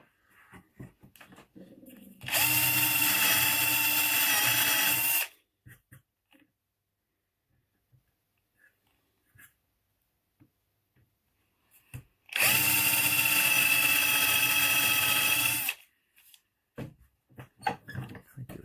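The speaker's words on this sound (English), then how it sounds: "then I'm going to drill down to the tape" A power drill bores into wood to make holes for a dowel joint, two loud sustained bursts of a few seconds each separated by a quiet pause, close by with faint handling noises around them.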